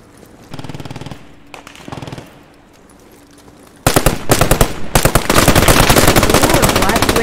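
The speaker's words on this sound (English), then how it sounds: "I got the MG inside here." Browning M1919 machine gun firing inside a house in the WWII shooter game Post Scriptum: a few quieter shots and a brief lull, then loud, sustained automatic bursts up close that fill the rest of the clip.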